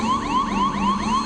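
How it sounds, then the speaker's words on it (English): Apollo lunar module onboard computer 1202 alarm, rendered as a loud, steady electronic warble with repeating rising-falling tones, sounding continuously and alone for the whole moment. "a problem with the onboard computer. The 1202, well, 1202 alarm."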